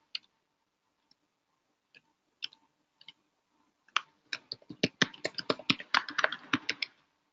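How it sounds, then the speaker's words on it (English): Typing on a computer keyboard while entering a root password in a Linux terminal: a few scattered key clicks, then a quick run of close, crisp keystrokes. "and I'm typing the password of the root."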